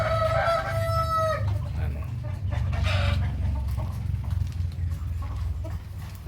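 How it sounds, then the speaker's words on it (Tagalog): Black mottled Brahma chickens, with a rooster giving a loud drawn-out crow nearby, then softer clucking and scattered farmyard noise over a steady low rumble. "Yan yung ating black mottled na Brahma."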